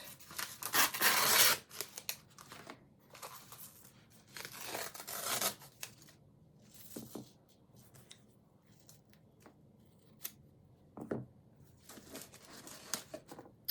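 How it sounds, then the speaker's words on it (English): Leftover fabric and stabilizer are torn away from a finished mini embroidered wall hanging in short ripping bursts, loudest at first, then scattered tugs and crinkles, close and fairly quiet. "I should just tear the rest of this out."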